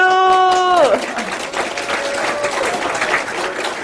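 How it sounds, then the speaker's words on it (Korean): Applause breaks out at an awards ceremony during a farmers' association workshop, a burst of many hands clapping right after a short musical flourish, continuing steadily with some voices in the crowd. "박수!"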